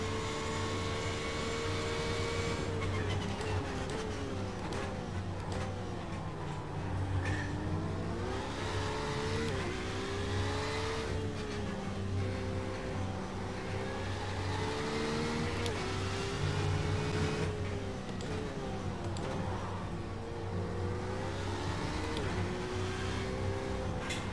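GTE race car engines in the iRacing sim, an IMSA race, roar steadily and loudly throughout, with pitch climbing and falling through gear shifts and a faint tire squeal now and then.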